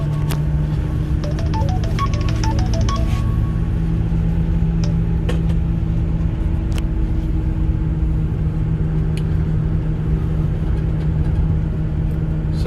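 A 2009 Ford F-450 DRW 2WD truck engine with 153k miles running, a steady low rumble heard from inside the cab, with a short series of chimes early on and faint clicks.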